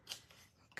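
Scissors cut paper for a scrapbook page: two quick, quiet snips with soft rasping in between, close and faint.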